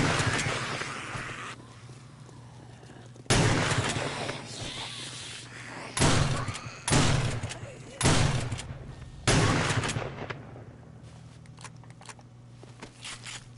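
Shotgun blasts in the game 7 Days to Die, about five loud, sharp booms spaced a second or two apart, each with a short decaying tail, over a low background rumble.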